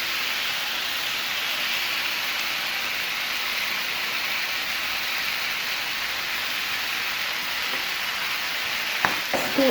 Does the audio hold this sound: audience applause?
no